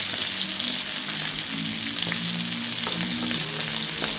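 Onion sizzles and fries steadily in a hot pan for chicken drumstick adobo, a continuous close crackling hiss with light stirring, no talking.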